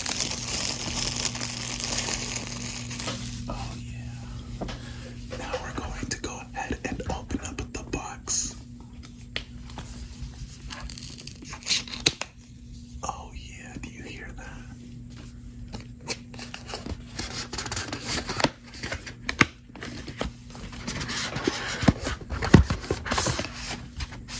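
Apple Watch Series 7 packaging is unwrapped and peeled up close, with crisp crinkling, rustling and scraping throughout, while a soft whispering voice runs underneath.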